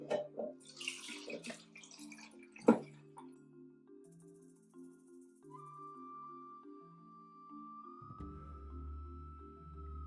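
Water is poured from a tap into a pot of pureed red bean sauce for North-Indian makhani rajma, making a steady filling sound with ringing, slowly shifting tones and no voices.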